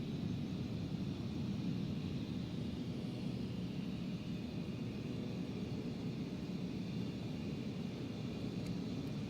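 An Air Force aircraft takes off from a runway, heard as a steady, broad roar that fills the whole stretch evenly, with no voices.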